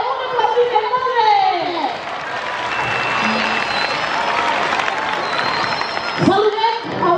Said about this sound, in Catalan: Ole, un aplaudiment, molt bé!